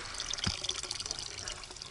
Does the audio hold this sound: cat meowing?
no